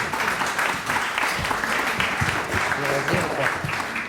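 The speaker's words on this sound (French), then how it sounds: "On peut l'applaudir, hein, parce que c'est beau." Sustained audience applause fills a hall during a forum's open exchange with the room, a steady dense wash of clapping over the full stretch, with faint voices mixed in beneath.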